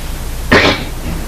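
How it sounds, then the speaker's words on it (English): A single harsh cough bursts out close to the mic, then quiet returns. "Jesus, this cough."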